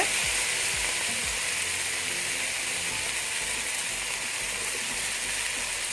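Frozen peas fry with fenugreek leaves in a pan over a medium flame, a steady, loud, close sizzle throughout, with a few low knocks of stirring near the start.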